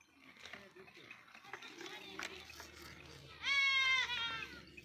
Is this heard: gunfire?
no